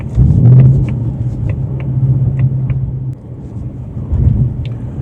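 A 2024 Ford Mustang GT heading out of town, its engine giving a steady low rumble that swells and eases with throttle, with faint ticks and road noise and no talk.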